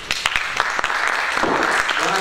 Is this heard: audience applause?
yes